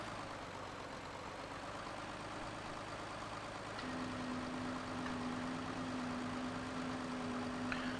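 A tractor engine drones steadily while spreading slurry in the video game Farming Simulator 2013, a continuous mid-level hum that shifts to a slightly louder, steadier tone halfway through, with no talking.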